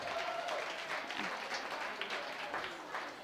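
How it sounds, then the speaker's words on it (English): Audience applause at an English in Action summer benefit, a steady wash of clapping held at even loudness for the whole stretch, with a few voices calling out over it. "Another round of applause."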